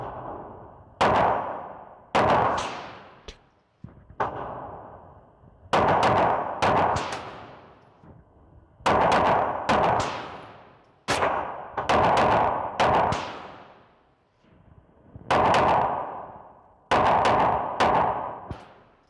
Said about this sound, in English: We're gonna run various ammos through that to see if anything really doesn't like this gun